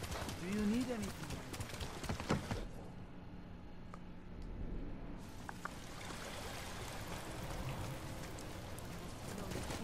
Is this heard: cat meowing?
no